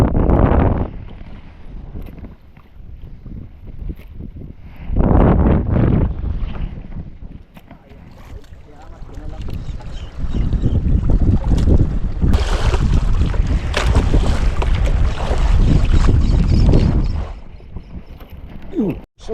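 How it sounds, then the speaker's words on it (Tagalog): Strong wind at sea buffets a small fishing boat, roaring loudly in surging gusts against the microphone, with waves and the boat's mechanical noise beneath. "Hangin na lang malakas yan."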